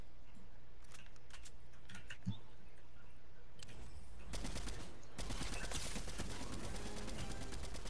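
Rapid gunfire in an online duos shooter game, a dense automatic burst starting midway and continuing loud to the end after quieter clicks and scattered shots.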